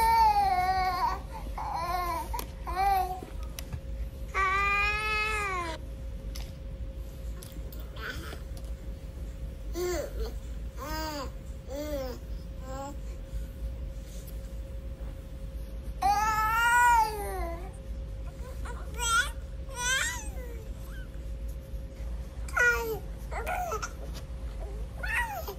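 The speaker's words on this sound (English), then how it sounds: "the baby sounds." Infant-like babbling, cooing and brief cry-like bursts for a reborn baby doll come in scattered bouts with quiet gaps, close and fairly clear over a low steady background hum.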